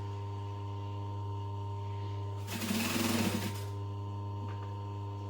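A sewing machine runs one brief burst of stitching along the fabric edge of a tote bag, about a second long, over a steady low electrical hum, with no talking.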